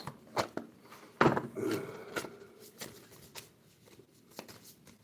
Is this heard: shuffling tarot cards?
yes